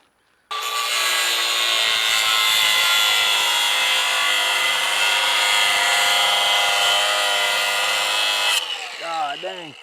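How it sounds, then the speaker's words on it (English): Power saw or grinder slicing through a truck's thick steel tube roll cage, one loud continuous high-pitched cut lasting several seconds before cutting off, followed by brief low sounds. "We're gonna be cutting off our roll cage"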